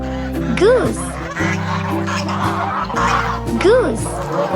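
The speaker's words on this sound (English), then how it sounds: "Goose." A farm goose honks in short, nasal bursts that repeat twice, loud and close over cheerful backing music, with no talking.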